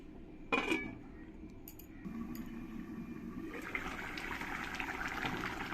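Water poured into a pot of Bengali prawn curry: after a clank of cookware, a soft rushing pour that swells and keeps running to the end.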